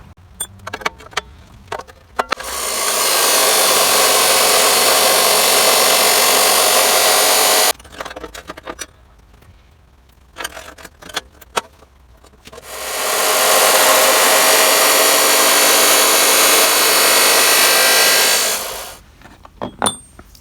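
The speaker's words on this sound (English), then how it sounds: "we got the chop saw out, we may as well go ahead and we can cut these" A chop saw cuts steel linkage bars for a 1976 Case 450 crawler, two long loud grinding bursts of several seconds each separated by quieter clanks and handling noises.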